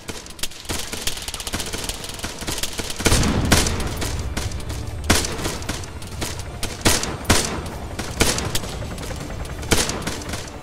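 Gunfire in the video game ArmA 3: bursts of shots crack out loud and close in irregular clusters, with dense rattling volleys over a busy battlefield background and no talk.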